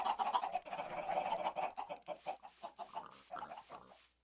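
Chickens in the video game Minecraft cluck in a busy run of short, choppy bursts, close and fairly quiet, tapering off at the end with no talking.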